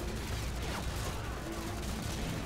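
Gunfire in Call of Duty Modern Warfare 2 rattles at the player, a steady wash of rapid shots and battle noise with no break across the moment.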